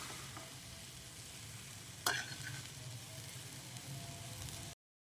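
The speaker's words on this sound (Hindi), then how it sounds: "इस तरह से हम इसको बिल्कुल लो फ्लेम पर जो है 3 से 4 मिनट तक बहुत ही अच्छे तरीके से मिक्स करते रहेंगे।" Fried rice with egg, chicken and vegetables sizzles steadily in a pan on a low flame while being stirred, a continuous close hiss with one sharp scrape midway before cutting to silence.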